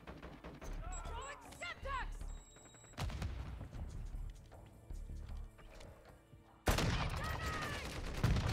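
Gunfire from an opponent in a Call of Duty Modern Warfare 2 match, arriving as a few sharp, loud bursts of shots among quieter game sounds while a person talks over it.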